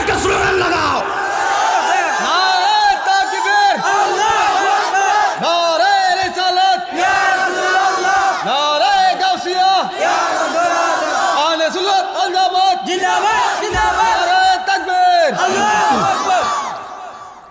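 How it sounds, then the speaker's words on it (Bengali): A huge crowd at a Bengali Islamic waz gathering in Dakshin Sararchar chants and roars a slogan in unison, loud and sustained, with repeated swelling shouts and a preacher's voice leading over the throng. "দুই হাত তুলে একটা স্লোগান লাগাও"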